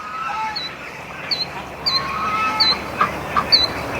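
Ducks and geese on a farm near a lake honk and quack in short, scattered calls over a steady outdoor background, several calls in quick succession at moderate distance.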